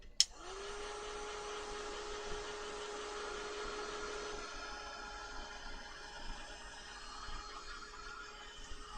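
A heat tool blowing hot air to dry a large craft coffee cup piece, switching on with a click and then a steady, close whirring hum that continues evenly with no speech.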